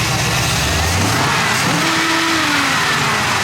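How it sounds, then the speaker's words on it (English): An AMC 360 V8 idles near 900 RPM, a steady low rumble with a faint rising whine partway through, loud and continuous with no talking. "That's a 900 RPM idle. I'm gonna bring it down."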